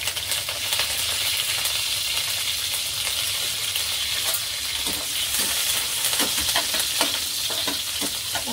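Curry leaves and garlic fry in hot oil for a rustic Marathi dry zunka, giving a steady close sizzle with scattered sharp spatters and light stirring clicks building toward the end.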